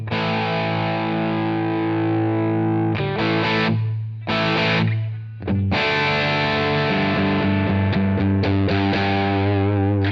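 Distorted electric guitar through a Mesa Boogie Mark amp capture on a Quad Cortex, playing loud, saturated sustained chords with a couple of brief stops and chugging restarts.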